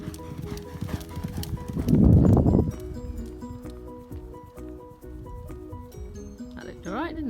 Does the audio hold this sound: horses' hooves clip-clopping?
yes